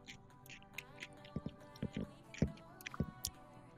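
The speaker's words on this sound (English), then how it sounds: "Chewing intensifies." Someone bites and chews a crispy cookie close to a microphone, producing a series of irregular crunchy snaps and squishes at a quiet level, with game sounds faint underneath.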